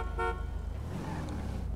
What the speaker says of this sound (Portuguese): Buzina aí, Cris.